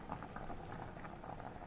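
Water in a pot boils at a rolling simmer, a dense bubbling patter that stays steady and close throughout.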